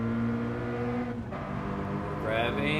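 A car engine in Gran Turismo 7 at Autopolis holds a steady high rev with a strong harmonic drone, dips briefly, then climbs again.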